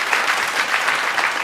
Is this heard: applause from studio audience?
yes